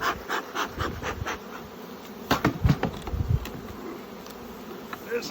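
Honey bees buzzing around a full hive box of bees and honey during a late-summer honey pull, close intermittent buzzing with soft handling knocks in between.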